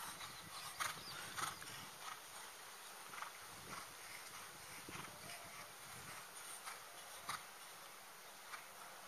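A collected horse in training canters on the counter lead in a tight small circle, its faint, rhythmic hoofbeats repeating steadily over a constant high insect-like hiss, with no voices.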